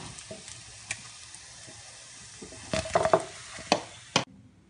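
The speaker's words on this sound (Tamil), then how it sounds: "இப்போ இந்த செகண்ட் பேட்சும் நல்லா இந்த மாதிரி ஃப்ரை ஆகிடுது" Paneer nuggets frying in hot oil, a faint steady sizzle broken by a few sharp clinks and scrapes of a utensil toward the end, close and without voices.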